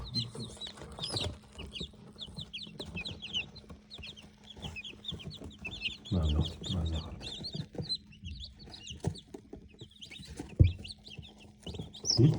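Twenty-eight chicks, newly hatched after 22 days in an incubator, keep up a dense, steady chorus of high peeping close by, while a hen's low clucks rise and fall underneath.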